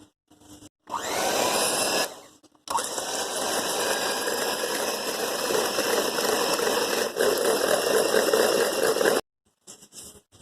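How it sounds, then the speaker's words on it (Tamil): An electric hand beater whips butter, cream cheese and vanilla for red velvet cake frosting, a steady loud motor whir with a rattling buzz running about six seconds after a short burst, with brief pauses between runs. "நான் எலக்ட்ரிக் பீட்டரில் பண்ண போகிறேன்"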